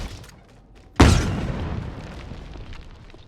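A fusion coil explodes in Halo Infinite, with a sudden loud close boom followed by a long rumbling decay after quiet game ambience.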